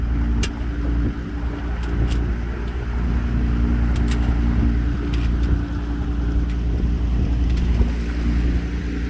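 O'Day 272 sailboat motoring out of an anchorage at Prisoners Harbor with no wind, a steady low engine drone and water rush filling the whole stretch, with faint scattered knocks on top.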